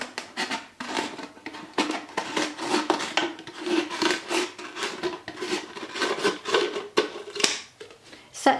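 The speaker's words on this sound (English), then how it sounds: "So remove the lid and gently cut this part of the bottle." Scissors cut through a plastic bottle with its lid removed, producing a steady run of close crackling, rasping snips that rise and fall rhythmically for several seconds with no talking.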